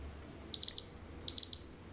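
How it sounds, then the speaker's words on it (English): Two quick pairs of high, thin electronic beeps from a transmitter being programmed with its ID code, each pair a clean double chirp, set apart by a short pause over a faint low hum. "you hear a double beep"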